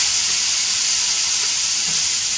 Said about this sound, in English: So the onions, we'll put them in with the hot butter.